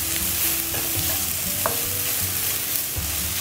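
Mushrooms sautéing in a hot pan for a cauliflower stir-fry, with a steady close sizzle and the scrape of a utensil stirring through them; no voices.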